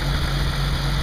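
An all-original 1934 Dodge sedan with 29,000 miles idles after a cold start following months unused, puffing a little smoke. Its engine makes a steady, low, even throb at close range for about a second.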